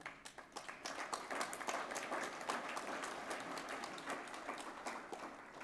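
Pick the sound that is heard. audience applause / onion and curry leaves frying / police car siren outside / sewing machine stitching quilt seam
audience applause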